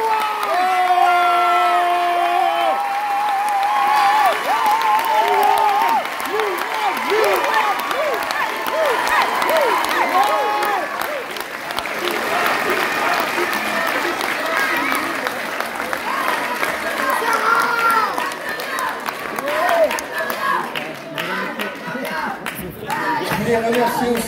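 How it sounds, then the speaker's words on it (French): Audience at a hairdressing show in a Saint-Étienne convention centre applauding and cheering, sustained crowd clapping with whoops and shouts, a presenter's voice carrying over it, swelling midway before tapering. "je voulais encore que vous applaudissiez très fort"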